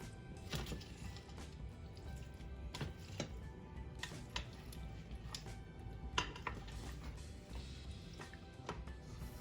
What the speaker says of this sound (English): Now I'm just going to give everything a good mix.